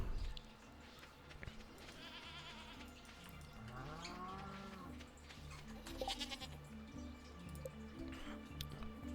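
Goats bleating in the farm game Stardew Valley as they are milked, several short cartoonish bleats over soft background music, with small dripping and squishing effects and no voices.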